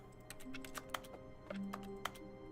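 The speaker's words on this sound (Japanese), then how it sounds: "キーボードも押してる音はするのに" Keyboard typing from the video game Stapara DX: a string of crisp, separate key clicks at an uneven pace, moderately close, over a steady low electronic hum.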